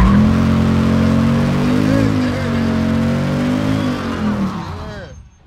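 A Ford Mustang RTR, Gittin Jr. edition, doing a burnout: the engine holds a high, steady rev with harmonic whine while the tires squeal, then the pitch drops and cuts off sharply near the end.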